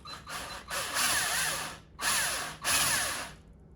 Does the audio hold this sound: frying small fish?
no